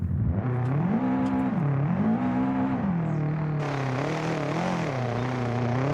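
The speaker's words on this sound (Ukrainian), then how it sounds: "Не знаю, чи мене чутно за цим душороздираючим е, звуком вихлопа даного корча." A rally car's exhaust roars loud and continuous in BeamNG Drive, the engine note rising and falling as it revs through gears, close and steady throughout.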